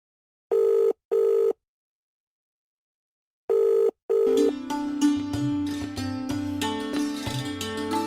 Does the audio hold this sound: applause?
no